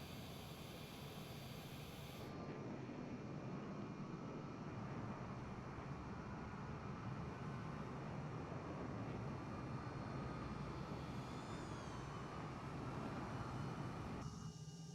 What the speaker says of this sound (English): We're just waiting for the engines to power on.